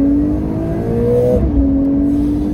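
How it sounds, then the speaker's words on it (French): A Porsche 992 Carrera 4S accelerates at full throttle in second gear, its engine note climbing in a steady loud rising whine, then dropping sharply at a shift before rising again, heard from inside the car with no talking. "Je me mets en deuxième, pied au plancher."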